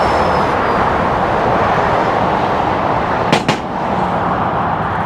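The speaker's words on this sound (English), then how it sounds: "Sorry for the noise, that was a freeway overpass." Traffic rushes overhead as a Segway ZT3 Pro electric scooter passes under a freeway overpass. A steady, loud wash of road and wind noise carries throughout, broken by one brief sharp thump.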